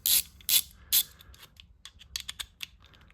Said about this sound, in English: That lockup is great between the ratchet and the socket here.